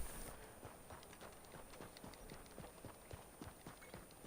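Horse hooves clip-clop in a steady walking rhythm in Red Dead Redemption 2, close and fairly loud against a constant hiss of background ambience, with no talking.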